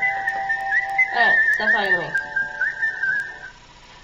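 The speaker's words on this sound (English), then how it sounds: "excuse my phone, that's my phone, Kill Bill tune." A mobile phone ringtone whistles the Kill Bill tune, a clear looping melody that sounds steadily under a person talking over it, then stops abruptly near the end.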